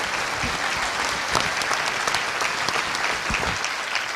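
Steady audience applause fills the room, dense and continuous throughout with scattered louder claps and no voices standing out.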